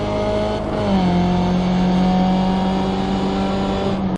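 Race car circling the Brands Hatch circuit, its engine droning loud and steady with a sustained tone that shifts pitch slightly early on, heard alone for about four seconds.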